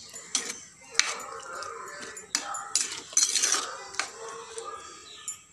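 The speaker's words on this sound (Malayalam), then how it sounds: "ഉപ്പിട്ട് കൊടുത്താൽ ഒന്ന് കൈ ഒന്ന് ഇളക്കി കൊടുക്കുക" A spoon clinks and scrapes against a pot while salted prawn curry made with ground coconut is stirred, giving several sharp metallic knocks and rattles over a quiet background.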